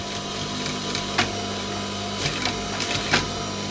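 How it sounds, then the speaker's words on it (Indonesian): A sewing machine stitches the back pocket of baggy trousers with a continuous, fast mechanical hum up close. Brief ticks and knocks from handling the fabric sit on top of the hum, and no one speaks. "Lalu kita tinggal mengikuti jahitan bagian yang kita bantu setengah senti tadi"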